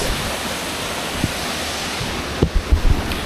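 A waterfall in Sagada roars close by in a constant wash of noise, with a few soft handling bumps near the end.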